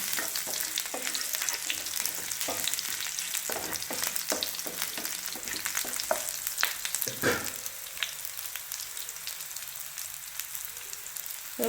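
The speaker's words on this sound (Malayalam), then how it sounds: "കൊച്ചുള്ളി ഒന്ന് നല്ലോണം ഒന്ന് മൊരിയണം" Small shallots frying in oil for a pickle, a steady hiss and crackle broken by repeated scraping stirs of a spoon in the pan.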